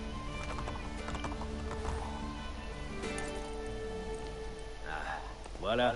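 Horses in the video game Assassin's Creed clop along in a steady hoofbeat rhythm beneath game music and spoken dialogue, with a brief whinny near the end.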